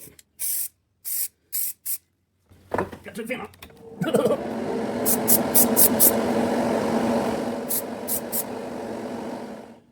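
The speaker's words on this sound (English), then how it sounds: "this time, I'm gonna spray from farther back." Several short hisses of an IronLak aerosol spray paint can, then rattling and a long continuous spray burst from farther back, with a few more brief sprays toward the end.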